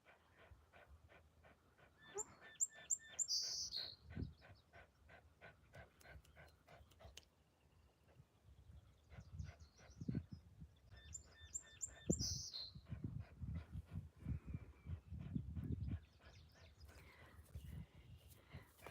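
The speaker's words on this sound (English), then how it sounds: "it wasn't a chipping sparrow, but a song sparrow." Bright, high song sparrow song phrases with trills repeat twice, heard near, over low rustling and a dog's panting and snuffling.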